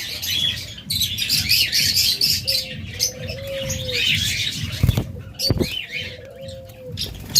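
Caged budgerigars chatter and chirp in a busy, fluttering stream, joined by two soft, drawn-out cooing tones and a couple of sharp knocks, fairly close and without speech.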